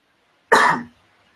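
A single short, sharp human cough, close and clear against near silence, fading quickly.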